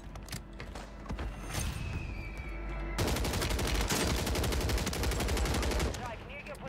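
Rapid automatic gunfire from the Warzone video game, loud and dense bursts running almost continuously, growing heavier partway through.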